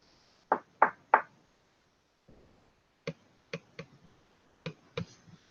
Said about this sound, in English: he simply knocks on the door with the umbrella